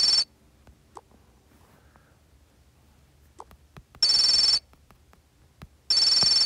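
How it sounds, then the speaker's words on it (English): A phone ringtone in a Toca Boca game sounds in three loud bursts, one at the start and two more about two seconds apart, with quiet game ambience and faint clicks between them. "Vinny's phone rings."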